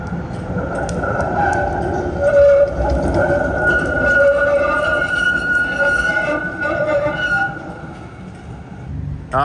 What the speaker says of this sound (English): Just wait, because there's a tram.